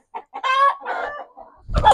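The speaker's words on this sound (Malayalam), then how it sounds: "എല്ലാം കൂവുന്നതാണ്" A rooster at a poultry farm lets out one close, loud crow in broken bursts, ending with a short rough rustle or cluck.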